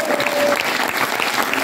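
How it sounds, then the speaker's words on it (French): A crowd claps steadily and loudly, a dense, continuous patter of applause filling the room. "Vous pouvez vous applaudir et applaudir fort."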